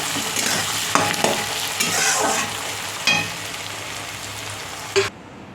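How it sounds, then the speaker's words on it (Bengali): Sliced onions sizzle in oil with bay leaves, dried chillies and whole spices, a steady crackling hiss broken by a few sharp stirring clacks before it cuts off abruptly. "পেঁয়াজ ভাজা চলছে এখনো।"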